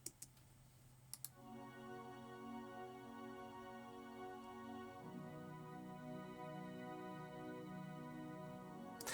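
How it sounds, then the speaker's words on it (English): A synth pad with no effects plays simple sustained chords in a beat-making session, a steady layered tone that swells in after a couple of faint clicks and changes chord about halfway through. "the pad without any effects on it sounds a little like this."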